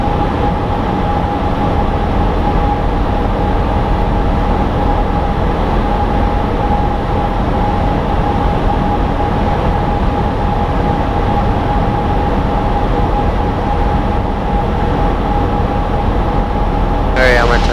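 A light aircraft engine idling, heard from inside the cockpit during pattern work at Lockhart, gives a loud, steady drone with a constant tone and no breaks, filling the cabin from start to finish.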